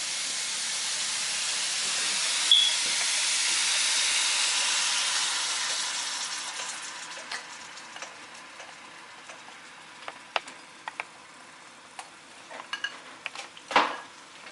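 Cold egg whites hitting a hot skillet, a broad soft sizzle that starts strong and slowly fades as the pan cools, followed by scattered light clicks and scrapes of utensil against the pan.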